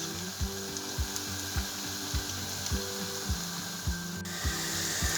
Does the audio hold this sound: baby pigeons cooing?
no